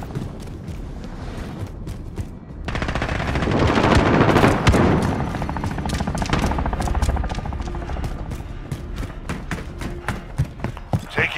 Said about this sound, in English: Oh, I'm taking fire!